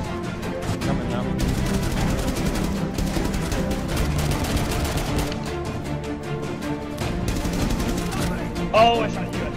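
Rapid automatic gunfire in Rainbow Six Siege, dense continuous bursts close and loud throughout, with brief shouting from players over the shooting.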